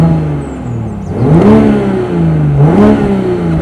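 Twin exhausts of a Toyota Supra 3.0 blip and rev twice, engine pitch rising and falling in two distinct surges over a steady idle rumble, loud and close with no talking.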